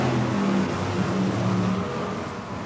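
At the start of a 1994 BriSCA Formula One stock car race at Kings Lynn, a dense pack of engines roars and revs loudly and continuously at close range.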